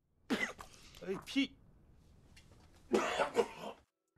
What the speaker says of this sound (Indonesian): ia malah batuk darah